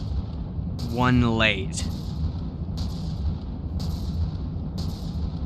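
A rotary cannon fires in the building game From the Depths, sending out heavy bursts roughly once a second over a low rumble, with someone talking briefly before the shots.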